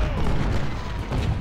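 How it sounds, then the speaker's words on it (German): Cannon artillery fires in the Ultimate General: Civil War video game, a dense run of deep booming shots layered close together with rumbling low-end thuds throughout. "Hier gibt es ein Kanonenbattle."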